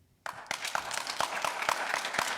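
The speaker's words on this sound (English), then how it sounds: "let's try to hold our applause so that we can run through this fast" Audience at a mayoral candidate forum in Irvine breaking into applause, a sudden onset of steady clapping from a modest crowd that holds at an even level.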